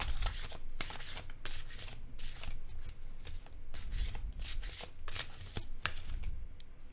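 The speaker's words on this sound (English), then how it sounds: "So I'm gonna draw a card for pile number 1." Tarot cards being shuffled and drawn, a soft rapid riffling and flicking of cards close up, continuing steadily in quick bursts with no talking.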